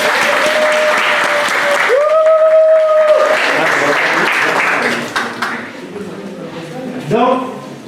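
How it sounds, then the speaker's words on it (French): Guests at a traditional wedding applaud in a sustained, loud burst under a held musical tone, and the clapping thins out to let voices and brief sounds come through. "Applaudissez!"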